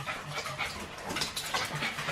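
A whippet whimpers softly in short, faint whines and breaths, close by in an otherwise quiet room.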